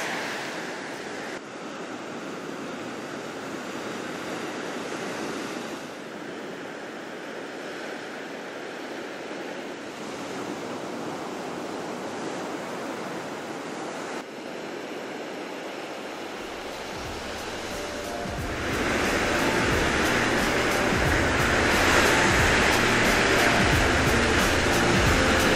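Ocean waves break at a surf beach in Kamogawa, Japan, steady washing surf noise mixed with wind buffeting the microphone, building louder as a bigger wave rolls in near the end.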